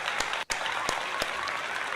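Steady, dense applause fills the span, loud and close, with a few sharper claps breaking through and one brief dip near the half-second mark.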